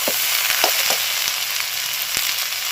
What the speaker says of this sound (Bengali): এবার শাকটাকে ভালো করে এর সাথে ভেজে নেবে